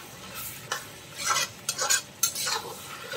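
Chicken stir-frying in a pan while being mixed, giving a steady sizzle under several sharp scraping strokes of a spoon against the pan, close and fairly loud, with no talking.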